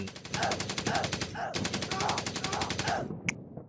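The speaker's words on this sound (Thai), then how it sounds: "เกิดการ ยิงประทะกันเกิดขึ้น" Rapid automatic gunfire in a mobile World War II shooter rattles in loud, even bursts for about three seconds, with a short break in the middle and a sharp high click at the end.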